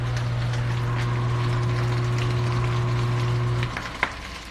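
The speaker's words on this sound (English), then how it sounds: "You guys can hear that it's sizzling, snap, crackle, and popping" Spam and salmon fried rice sizzles and crackles steadily in a hot pan, with a constant low hum underneath that cuts out near the end, leaving a sharp pop.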